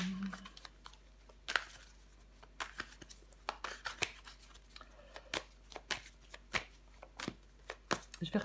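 Tarot cards being handled and laid over other cards on a table, soft papery slaps, shuffles and taps in an irregular sequence, faint and close, with a quiet voice speaking in between.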